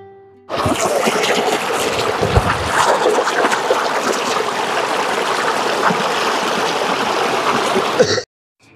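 Clear, cool river water of the Thuvachi river rushing and splashing at Ulakkai Aruvi waterfall near Kanyakumari, a steady close, loud wash of flowing stream that holds without voices until cutting off abruptly.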